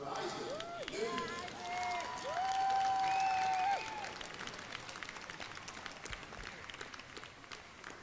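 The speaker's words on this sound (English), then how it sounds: "One more time, fans, give it up for Isaac Newton" High school wrestling fans applauding and cheering at a Jenks versus Claremore meet, steady clapping from a crowd under a loud announcer's voice, fading to quieter claps.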